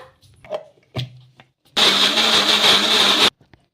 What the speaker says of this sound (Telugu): ఇప్పుడు మరి కొన్ని నీళ్ళు అయితే వేసుకొని మెత్తగా మిక్సీ అయితే పట్టేసుకోవాలి